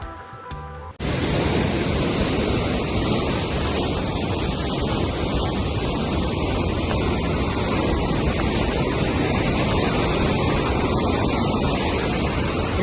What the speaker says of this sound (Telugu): ఈ వాటర్ ఫ్లో సౌండ్ వినండి ఎంత బాగుందో